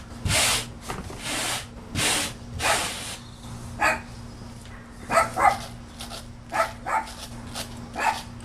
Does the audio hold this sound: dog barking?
yes